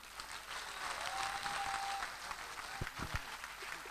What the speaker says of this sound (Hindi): ये वो जोरदार तालियां